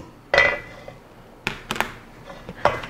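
Kimchi seasoning of garlic and salted shrimp being stirred in a bowl gives a few scattered clinks and scrapes, a sharp knock near the start and more short utensil taps later, with no talking.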